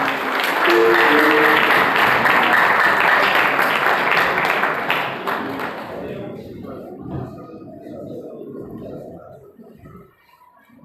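A conference audience applauds a speaker, a dense burst of clapping for about six seconds that then thins out, leaving scattered thuds, room noise and voices.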